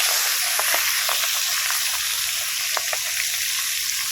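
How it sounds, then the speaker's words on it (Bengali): Puti fish sizzle in hot oil in a wok, a steady loud hiss and bubbling frying sound with faint crackles and pops throughout, close up, with no talking. "এবারে আমি কড়ার মধ্যে মাছগুলো দিয়ে দেবো। মাছগুলো সুন্দর করে ভেজে নেব।"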